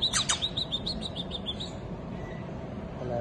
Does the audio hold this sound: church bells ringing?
no